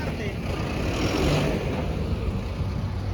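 A Mahindra tractor engine runs with a close, heavy low rumble that swells slightly and settles, with indistinct voices or background murmur mixed in.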